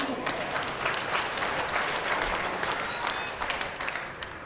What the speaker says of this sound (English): I found myself clapping into the microphone earlier here, Sam, and can't be doing that.